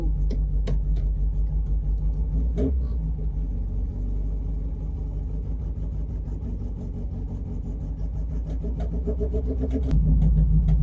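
A Saab Sonett engine churns as it tries to start, giving a low, uneven rumble close by that surges and sags and then rises a little louder near the end.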